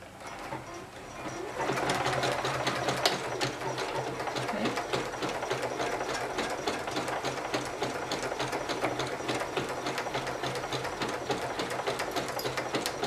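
A sewing machine runs steadily, stitching fabric for rotary cutter cozies with a rapid, even mechanical chatter that starts softly, then settles into a continuous close-up whirr for several seconds.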